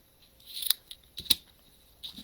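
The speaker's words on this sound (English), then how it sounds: "Going to cut this down." Scissors cutting fabric for a craft project, a few sharp separate snips close to the mic at an uneven pace, quiet in between and with no talking.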